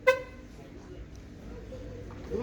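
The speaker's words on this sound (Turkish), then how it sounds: "bir sefer korna kitleme uyarısı veriyor" A single short car horn toot from a 2014 Volkswagen Jetta Highline confirming remote locking at the start, then quiet low outdoor rumble.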